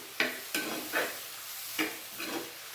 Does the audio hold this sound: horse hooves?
no